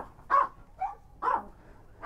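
Dogs at a dog meat farm rescue give several short barks and yips at a steady pace, fairly faint and a little distant, with no voices over them.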